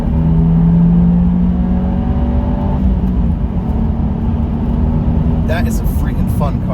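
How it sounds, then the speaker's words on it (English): A 2024 Subaru WRX engine drones steadily at high revs under a constant-pitch run that shifts near the middle, staying loud and close throughout with someone talking over it. "This is just vroom, vroom, vroom, the whole way through the rev band, which is way fun."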